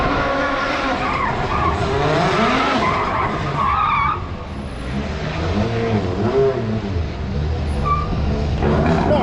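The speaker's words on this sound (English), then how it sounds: "This is how a Rally 1 car warms its tyres up." A Rally1 car's tyres squeal and skid loudly as the engine revs and roars, spinning continuously to warm the tyres, with brief dips in intensity, at the Acropolis Rally in Greece.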